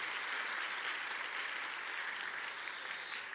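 A church audience at a Friday service on Myanmar missions applauds to welcome a missionary couple, a dense, steady wash of clapping that holds at an even level throughout.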